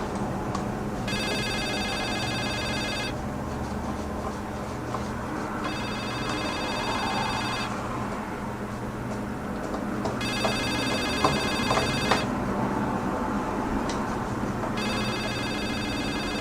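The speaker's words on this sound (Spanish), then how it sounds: "teléfono, ¿dónde está?" A telephone rings in repeated bursts of about two seconds each, four rings with pauses between, in the horror game The Suicide of Rachel Foster, over a low ambient indoor hum.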